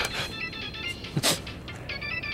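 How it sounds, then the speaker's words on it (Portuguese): Electronic telephone ringtone trilling through a quiet home at night, steady repeated warbling tones with a brief louder knock or thump midway, no talk. "Ô, Tônia, não tá ouvindo o telefone?"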